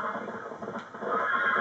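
Horse neighing in Red Dead Redemption, a clear whinny rising and falling over a second and a half with faint hoof clatter beneath, moderately close and with no talk.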